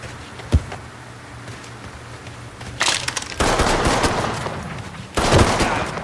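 Rapid automatic gunfire in the Mafia III video game, with a single sharp shot early on, then loud sustained bursts that stop briefly and start again close by.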